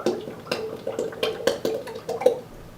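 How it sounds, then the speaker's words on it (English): Heavy cream pours into a custard base for homemade cookies and cream vanilla ice cream, a close, splashy liquid stream with soft glugs and drips in an uneven rhythm, no talking. "So now I'm going to go ahead and pour the heavy cream in there."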